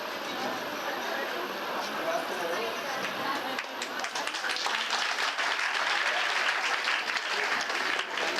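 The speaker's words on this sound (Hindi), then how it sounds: "जोरदार तालियां" An audience at an international conference session breaks into sustained, dense applause. The clapping is loud and steady throughout and grows slightly fuller partway through.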